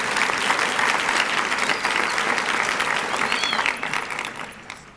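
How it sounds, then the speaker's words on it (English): An audience at an author event bursts into sustained, dense applause, loud and even for several seconds before easing off slightly at the close. "Tonight, another round of applause."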